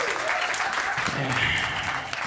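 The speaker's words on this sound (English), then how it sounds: "Make a round of applause if you're here with your significant other tonight." A comedy club audience bursts into applause, a loud continuous wash of clapping with some cheering voices mixed in, sustained throughout.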